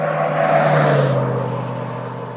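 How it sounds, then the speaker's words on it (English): A pickup truck fitted with loud mud tires drives past, a broad steady roar with tire hum that swells and then slowly fades, heard alone. "In the South, we like to put mud tires on our pickup trucks, make them real loud."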